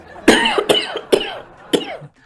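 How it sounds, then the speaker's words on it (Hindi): Several harsh coughs come in quick bursts from a man during an indoor comedy sketch, loud and close, with short breathy pauses between them. "आपको खांसी हो रही है"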